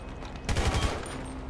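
Heavy gunfire in Grand Theft Auto V, a sudden dense burst of overlapping shots and rapid automatic fire that starts after a low rumbling lull and stays loud and sustained, with no talking.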